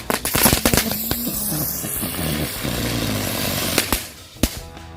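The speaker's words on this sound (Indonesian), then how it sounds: "kita nyalain mercon bunga teratai. Ini bisa berputar seperti gangsing" A lotus flower spinning firecracker goes off during Lebaran, giving a loud continuous hissing whirl punctuated by sharp cracks and a final pop, heard alone at close range outdoors.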